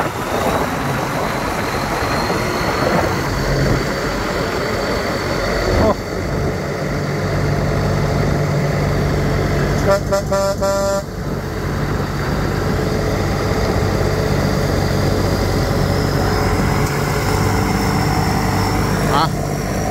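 A Chokbunchu combine harvester with an air-conditioned cab works a rice field in Buriram, its engine droning loud and steady at full power throughout, with a brief rattling burst partway through.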